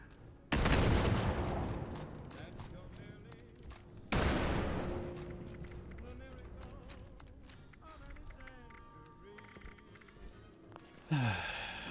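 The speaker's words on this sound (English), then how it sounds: "So many grenades." Grenade explosions in Fallout 76: two loud close blasts about four seconds apart, each decaying into rumbling debris, with scattered combat noise and a voice between them and a sharp sound near the end.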